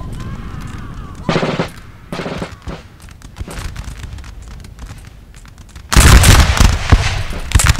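Musket volleys from infantry lines in Napoleon Total War, loud bursts of crackling gunfire at intervals, with a heavy sustained barrage near the end, over battle ambience and a voice.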